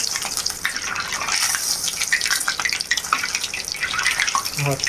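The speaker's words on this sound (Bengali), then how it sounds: "আমি আস্তে জালে অল্প অল্প করে ভেজে নেব" Steady hiss and crackle of samosas frying in hot oil over low heat, continuous and close, with a few faint bubbling pops.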